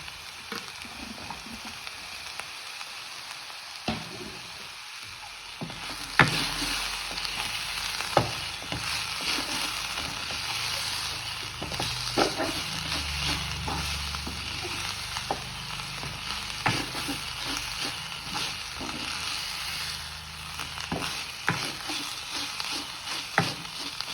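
Chicken pieces sizzle in a pan of sautéed masala, a continuous close fry punctuated by sharp scraping taps of a spatula stirring throughout, no one speaking.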